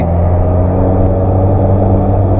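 A manual car's engine in second gear accelerating on an uphill, a steady, loud low rumble with even harmonic drone and no talking.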